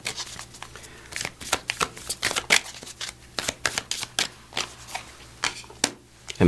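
A deck of empowerment oracle cards is shuffled at close range. Quick papery riffles and taps come in an irregular rhythm over a quiet background.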